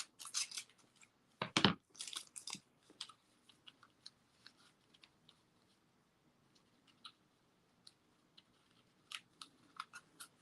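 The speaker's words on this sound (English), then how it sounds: "Just just going to cut open the package." A package of new craft trim is cut open with crisp, close snipping and plastic crinkling in short bursts, including one loud rip partway through, with quiet pauses between.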